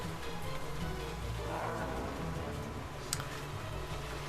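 Rain falling in an episode of the My Little Pony: Friendship Is Magic cartoon, a steady patter of drops on surfaces at moderate loudness, with a brief tick near the end and faint murmur underneath.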